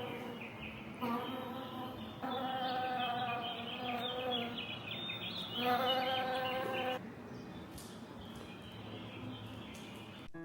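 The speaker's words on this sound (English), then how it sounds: "This is a multi-sensory installation that explores a bee's experience in their environment." Bee buzzing in a multi-sensory art installation, a droning hum that swells in and out in sustained waves, some passages louder and closer, heard alone with a faint room background.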